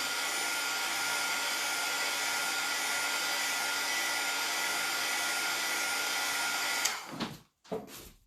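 A hair dryer blows on a craft piece with a loud, constant close-up whoosh for about seven seconds, then switches off with a couple of brief handling thumps. No one speaks.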